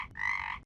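A single frog croak as a comedy sound effect, one short nasal, buzzy call with a brief clipped start, then a sustained croak that cuts off abruptly, clear and close with no voices.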